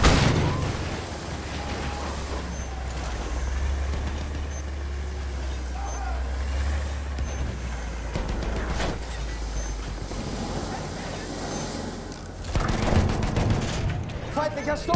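Machine gun fire in Battlefield 1 on the Amiens map comes in scattered bursts over a heavy tank engine rumble, with a voice speaking in the background.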